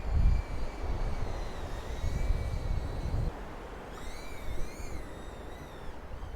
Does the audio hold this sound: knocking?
no